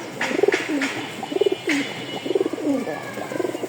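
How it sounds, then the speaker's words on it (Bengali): Several pigeons of a fancy breeding pair coo in repeated rhythmic bursts, close and fairly loud, with soft rustling between the calls and no talking. "আমি একটু ডাক দেখাই, কবুতরগুলো খুবই ছটপটা"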